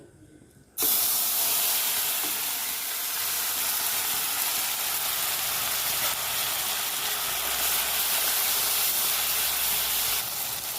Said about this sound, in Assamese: এতিয়া মই আদা নহৰু পিয়াজৰ পেষ্টখিনি দি দিম।